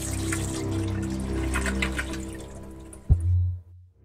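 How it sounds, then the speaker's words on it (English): A toilet flushes in the Stonewall Penitentiary video game, a steady rushing of water that surges briefly near the end and then cuts off abruptly. "Still flushes. That's a relief."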